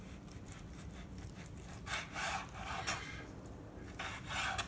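A knife trims fat off pork for tasso, giving soft scraping, rasping strokes close by, in uneven bursts that grow a little louder midway and near the end.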